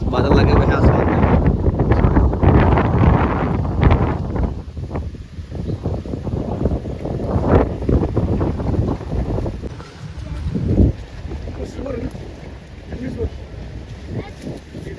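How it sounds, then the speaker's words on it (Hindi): Wind gusts through the forest on an open jungle safari at Jim Corbett under a cloudy sky, buffeting the microphone with loud rumbling surges that rise and fall while someone talks over it throughout. "ये लगती हवा चल रही है, मौसम अच्छा हो रहा है"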